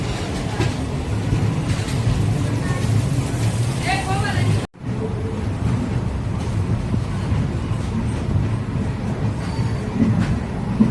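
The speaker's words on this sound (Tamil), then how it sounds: "செங்கோட்டையிலேருந்து சென்னை போகக்கூடிய சிலம்பு எக்ஸ்பிரஸ் தான் பிளாட்ஃபார்ம் நம்பர் 2ல நின்றுருக்கு" Silambu Express, bound for Chennai, stands at platform 2 of small Sengottai railway station, with a low rumble of the idling train, squealing metallic tones and station noise, and a sharp cut midway, with a person speaking over it.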